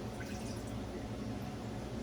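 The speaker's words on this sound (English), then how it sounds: "So we just use some of this water from the kettle." Water poured from a kettle into a cooking pot used for curry chicken, a steady close trickle and splash running throughout at low level.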